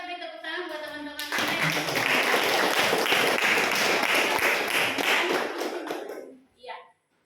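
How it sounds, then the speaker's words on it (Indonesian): Classmates in a school class clap for their peers, a brisk burst of many hands lasting about five seconds, preceded by someone speaking and fading out before a short voice at the end. "mari kita beri tepuk tangan buat teman-teman."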